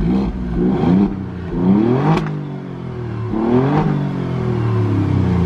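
A 2020 Alfa Romeo Stelvio Quadrifoglio engine revs up repeatedly with exhaust valves open, each rev climbing in pitch before dropping back, with a raspy, loud exhaust note close by.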